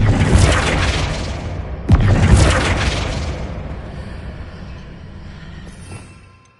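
A Flipendo spell goes off in a Harry Potter video game as a loud, close, booming blast. A second sharp impact follows about two seconds in, and the roar then fades away slowly.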